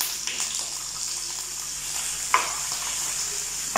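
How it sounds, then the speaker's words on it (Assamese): Onion and finely chopped capsicum sizzling in hot refined or mustard oil in a pan, a steady close frying hiss with a brief louder crackle midway and no talk. "তেলত পিঁয়াজ আৰু সৰু সৰুকৈ কটা কেপচিকামখিনি দি দিছোঁ"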